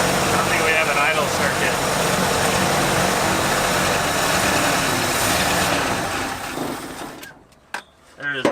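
Carbureted Ford Bronco engine, abandoned ten years in a storage lot, running rough with no idle circuit, a loud steady mechanical drone and hiss that holds for about seven seconds before cutting out, followed by faint stray sounds.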